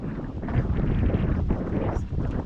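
Gusty wind buffets the microphone, producing a steady low rumbling roar with fluctuating bursts throughout.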